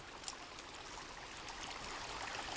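A water stream in the Sons of the Forest survival game, a faint continuous trickling rush with steady babbling that swells slightly toward the end, no speech.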